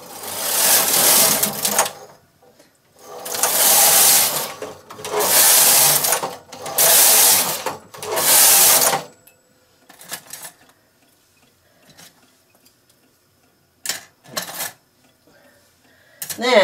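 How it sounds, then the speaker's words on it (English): Knitting machine carriage sweeping across rows of fabric in several loud, steady passes of about a second each, followed by quieter scattered clicks and clacks of needle handling. "So now I'm going to knit 5 more rows."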